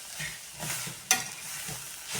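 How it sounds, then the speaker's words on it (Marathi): Drumstick leaves and fresh grated coconut are stir-fried over high heat, giving a quiet, steady sizzle with soft scraping and one sharp clink of a spoon against the pan, with no one talking. "आता मोठ्या गॅसवरती अजून 2 मिनिटं परतून घेऊ."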